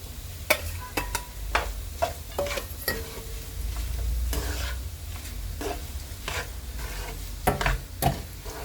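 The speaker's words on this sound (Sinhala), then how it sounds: "ඒකට දැන් චිකන් ටික දානවා." Chicken goes into a pan of broken-up scrambled eggs frying for nasi goreng: a steady loud sizzle under repeated sharp scrapes and clacks of a spatula stirring against the pan.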